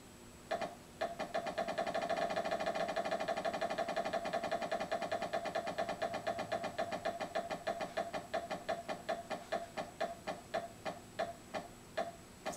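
A spinning prize wheel in the Wheel of Fortune Sega CD video game ticks in a rapid, even stream of clicks that gradually slow and spread apart over about eleven seconds, with a steady musical tone running underneath.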